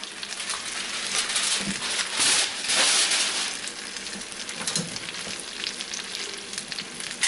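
Dinner burritos pan-frying, a continuous broad sizzle that swells and fades, with a few faint knocks in the pan and no talking.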